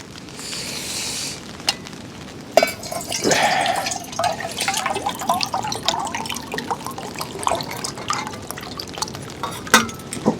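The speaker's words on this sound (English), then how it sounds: "Let's get some water in here." Water pouring and splashing into a metal camping pot close by on a very cold camping trip, with clinks of metal and drips, the pour rising in pitch as it fills.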